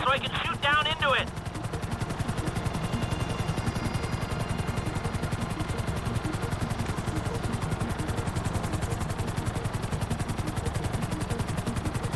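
A helicopter flying in the video game GTA 5, a constant rapid rotor chop filling the whole clip, with a brief chirping sound at the start.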